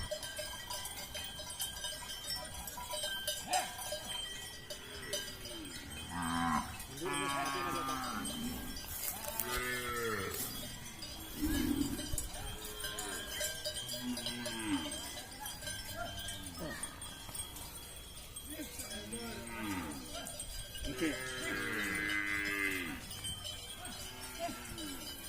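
A large herd of cattle grazes on open pasture, repeated moos rising near and far over a constant jangle of cowbells, with scattered distant voices.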